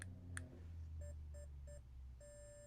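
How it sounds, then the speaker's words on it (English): An RC car's electronic speed controller on a 3S battery gives a quick rising startup tone followed by three short identical beeps and a longer final beep, clear and close over a low hum. "you get your 3 beeps for 3S, then you get a last beep just to say everything is okay"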